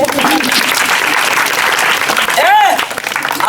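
An audience at a street magic show claps in a dense, continuous burst of applause, with a loud voice talking over it and a brief whistling tone near the end.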